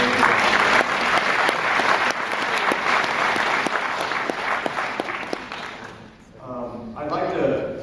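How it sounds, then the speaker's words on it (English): An audience at a Second Chance benefit evening applauds loudly and steadily with dense clapping for several seconds, fading as a voice begins speaking over the hall. "giving yourselves a big round of applause for being here tonight"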